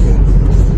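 A car engine idles and begins setting off, a low, loud mid-frequency rumble throughout this brief moment, heard close by without speech.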